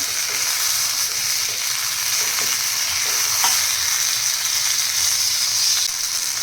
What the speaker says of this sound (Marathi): छान प्रेस करून करून इथे फ्राय करून घ्यायचे